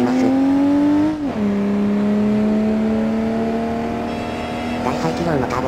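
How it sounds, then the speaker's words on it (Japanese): A large-displacement turbocharged four-wheel-drive car engine in BeamNG.Drive drones and revs steadily, loud and close, with a brief pitch drop like a gear change and rising strain toward the end. "大排気量のターボエンジンと四輪駆動を搭載しているのでかなり安定しています"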